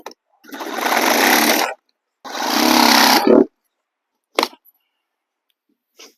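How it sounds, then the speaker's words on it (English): Sawzall reciprocating saw cutting in two loud bursts of about a second each, harsh buzzing strokes close by, separated by a short pause and followed by a couple of quick knocks. "Pull out the Sawzall."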